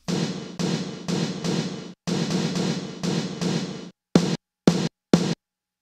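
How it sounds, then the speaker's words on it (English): Short 80s-style snare hits from a Kawai R-50 III drum machine, a run of clipped, gated bursts followed by three even shorter, sharper snaps separated by silence. "That's more of your, like, 80s snare thing. And that's very short."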